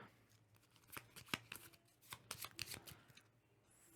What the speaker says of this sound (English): So we're going to have to shuffle.